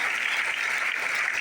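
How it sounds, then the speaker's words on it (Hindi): Audience applause at a business plan presentation in India, a steady dense wash of clapping that holds evenly for the whole stretch with no voices over it. "तालियां बजाइए"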